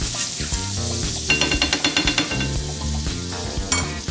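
Butter sizzles in a frying pan at the start of a creamy salmon dish, a loud close crackle with a run of rhythmic metallic scraping and clinks from stirring partway through, no talking.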